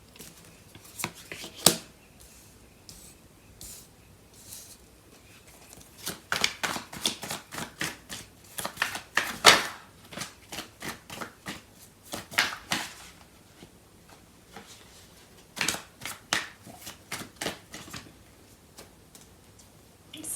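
Tarot cards being shuffled by hand during a reading, heard as close, crisp riffling flutters and taps in uneven clusters separated by brief pauses, with no voice.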